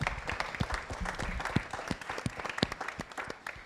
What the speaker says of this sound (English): Round of applause for everybody that's here today.